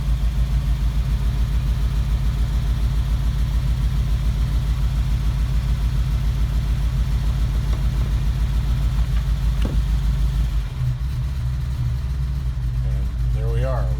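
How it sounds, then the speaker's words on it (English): Air-cooled engine of a 1969 VW Bus idling after a cold start, a steady, loud, rhythmic low chug that runs unchanged for most of the time before its tone drops and quiets near the end. "We've got the cold start, and now it's sitting at idle."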